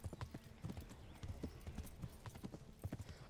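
Horse hooves galloping in the medieval video game Kingdom Come: Deliverance, a fast, steady clip-clop rhythm that is close and continuous with no talk over it.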